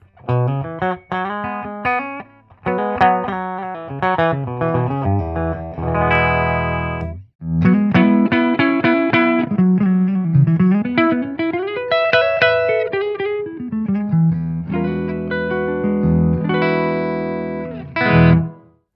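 Distorted electric guitar through a Blackstar AMPED 1 100-watt amplifier pedal on its 6L6 setting with flat EQ, switching neck and bridge pickups; riffs and chords with sustained notes, loud and close, played alone with brief pauses.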